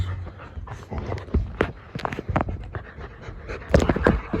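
A tired dog pants rapidly and steadily up close, with quick breathy huffs and occasional whimpery sounds.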